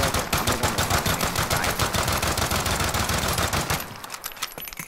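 Rapid automatic gunfire from a heavy-recoil gun in a video game, a loud, dense burst of shots that runs continuously for several seconds before cutting off into a few faint trailing sounds.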